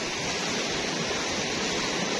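A small river runs through a lahar channel below Mount Semeru, giving a steady, broad rushing hiss of flowing water that stays even and close throughout, with no voices over it.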